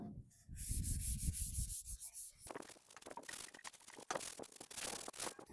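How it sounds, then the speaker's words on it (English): Close, rhythmic scrubbing strokes rasp against patina car paint, a wet sponge rubbing back and forth in quick repeated passes, like wet sanding. "I'm not necessarily scrubbing as much as I am like wet sanding."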